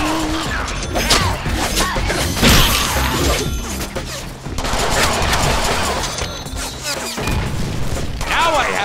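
Rapid machine gun fire and crashing impacts fill a frantic Deadpool video game fight, dense and loud throughout, with voices speaking over the action.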